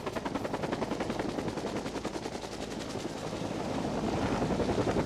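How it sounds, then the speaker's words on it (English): A helicopter comes back to collect forest firefighters, its rotor beating in a fast, steady chop that grows slightly louder and nearer toward the end, heard on its own without speech. "That's the helicopter that we came in."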